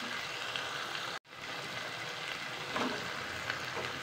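Red chilli powder dropped into hot oil with fried tomato while making sambar, a steady close sizzle and frying hiss that briefly cuts out, then resumes with light stirring, no talking heard.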